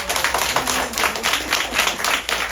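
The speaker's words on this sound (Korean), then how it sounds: "박수 한번 주세요." An audience claps in a rhythmic, fairly close pattern of sharp beats for a couple of seconds, moderately loud with no speech over it.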